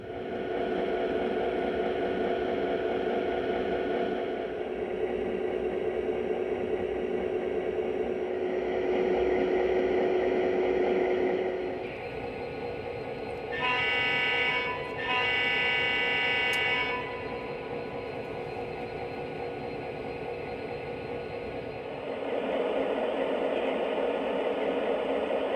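Lionel Vision Line Freight Sounds boxcar running on a toy layout, giving a long stretch of rumbling, hissing mechanical freight-train sound with shifting tones and a brief bright ringing burst partway through.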